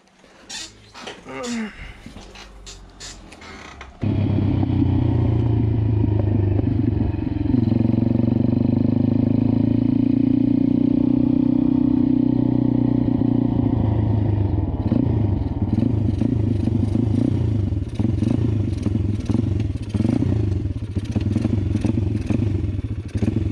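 A quad or pit bike engine running during a countryside ride, a loud, sustained low droning roar with wavering pitch after a clattery start, near and continuous, with some talk over it.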